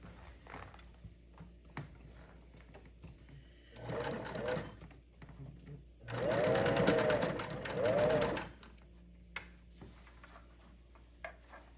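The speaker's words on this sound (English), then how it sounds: "we'll go ahead and sew our channel" A sewing machine stitches the channel of a homemade stuff sack for hiking. A short burst comes first, then a longer steady whirring run, with quiet handling clicks and rustles in the pauses around it.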